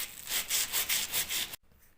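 Light hand sanding with 240 grit sandpaper over filled cracks in a new ceiling, six rhythmic back-and-forth rasping strokes close by, then stopping abruptly into quiet.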